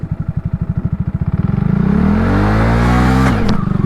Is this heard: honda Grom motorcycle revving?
yes